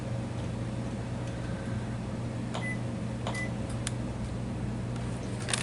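An oven timer is set for roasting a whole turkey, giving a few short, sharp electronic beeps spaced apart over a steady background hum.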